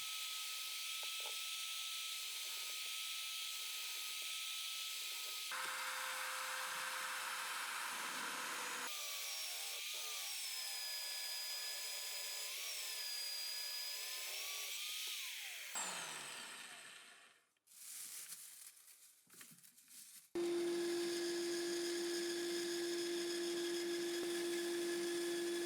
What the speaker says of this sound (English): I drill the holes with a column drill and cut with the bandsaw.